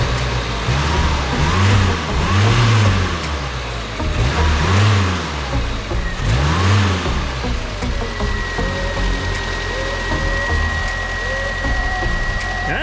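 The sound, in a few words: car engine starting and running after key turned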